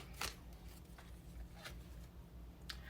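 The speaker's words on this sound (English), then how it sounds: "Let's pull a card for you." Tarot cards shuffled in soft, brief riffling bursts, three or four quick flicks separated by quiet pauses, close and faint, no talking.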